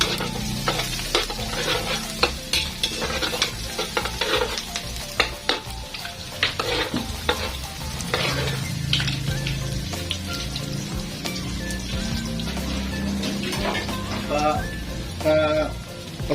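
Chopped garlic and ginger sizzle in hot oil in a pan, a steady frying crackle with scraping stirs and scattered pops, close and moderately quiet throughout.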